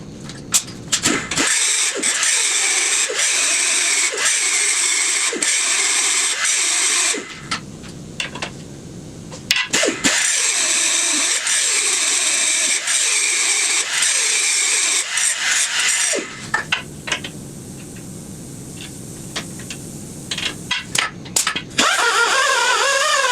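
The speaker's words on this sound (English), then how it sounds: "I'm going to grind a little off the top here to get my floorboard to sit" Angle grinder bursts cutting down a steel floorboard on a 1988 Harley-Davidson FLSTC, a loud, harsh whine running in long stretches of several seconds, broken by short pauses and clicks.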